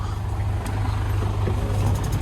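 A diesel engine on a new Thermo King refrigerated truck with two compartments runs with a steady low rumble close by, and no voices are heard.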